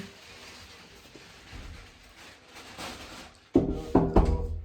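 Two sharp knocks on a hotel quarantine room door in Korea land close together near the end, following a stretch of quiet, muffled room noise.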